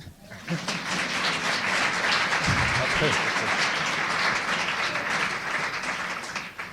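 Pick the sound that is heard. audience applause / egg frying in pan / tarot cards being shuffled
audience applause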